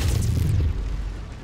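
Heavy mech weapons fire in the Mechwarrior 5: Mercenaries video game, a deep booming blast that rumbles loudly for about half a second and then tails off into a low sustained roar.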